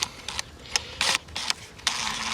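Several short, separate ratcheting clicks from a wrench come in an irregular run while the cam cover bolts on a Mk6 Golf GTI engine are snugged down; the sound is close and fairly quiet.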